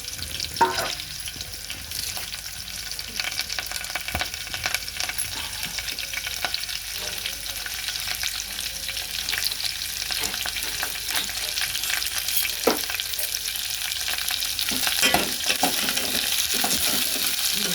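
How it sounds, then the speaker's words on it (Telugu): Green chillies, onions and carrots frying in oil for rava upma. A steady, moderately loud sizzle continues for the whole stretch, with faint scraping and stirring clinks and no talk. "పచ్చిమిర్చి, ఉల్లిగడ్డలు, క్యారెట్ అన్నీ వేసుకొని కొంచెం మంచిగా వేగనివ్వాలి"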